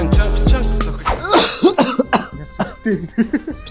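A person coughs in several harsh, throaty bursts, loud and close at first, then a run of shorter, rougher coughs and throat-clearing sounds.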